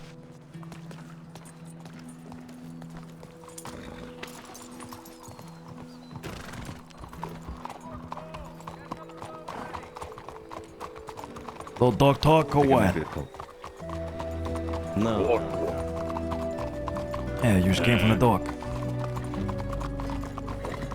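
Horses trot in Red Dead Redemption 2 roleplay on the WildRP server, rhythmic hoof clip-clops starting sparse then growing loud near the end, with a snort or whinny mixed in and players chatting over it.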